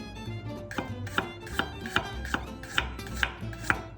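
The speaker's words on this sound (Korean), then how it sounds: "마늘을 얇게 슬라이스를 하겠습니다" Knife thinly slicing garlic on a cutting board: about ten crisp, evenly spaced taps in a steady rhythm, close and distinct with no talking.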